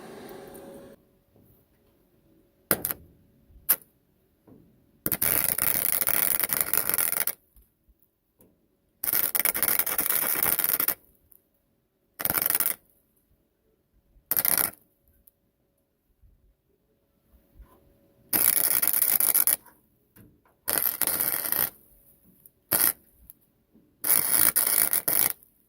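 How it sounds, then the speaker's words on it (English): Small welder powered by an EGRETECH 2200W power station running a short weld bead on an unprepped surface, heard as repeated bursts of loud, broadband crackling hiss lasting a second or two each, separated by quiet gaps. "I just ran a little bead here, as ugly as it is, just to show you guys that you could run a bead"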